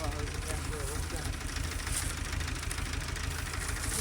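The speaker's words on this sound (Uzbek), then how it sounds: "Traktor ishlab ketgan ekan bu." A tractor engine runs at a steady idle-like chug, a continuous low rumble with a rhythmic knock that holds level throughout, with faint voices in the background.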